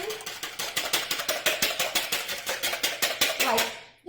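Three eggs being whisked in a bowl: a fast, steady run of sharp rhythmic clicks and taps from the whisk against the bowl, close and fairly loud, stopping abruptly near the end.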